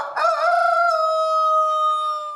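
A rooster crows loudly and close on an animal sanctuary farm that keeps many roosters, one long sustained call with no other sounds.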